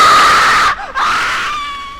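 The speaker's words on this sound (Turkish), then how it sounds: "Tam çığlık sesi gelmedi deyince neden çığlık atıyorsun?" A single shrill, sustained scream in the horror video game Slendytubbies, loud and close, briefly dipping in the middle before resuming and fading out, with no talk.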